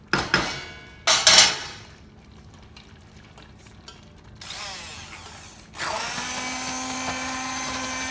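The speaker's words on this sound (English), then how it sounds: "now I'm going to blend it with my blender" A kitchen blender purees simmered, soupy spinach for saag paneer. After a few sharp clunks and rattles, the motor starts up and settles into a steady, loud whirring drone.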